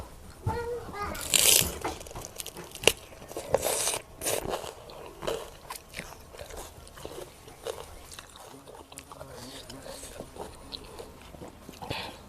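Crunchy bites and chewing of blanched asparagus eaten alongside spicy Thai rice noodles with fermented fish sauce, several crisp crunches early on, with a voice and household sounds around.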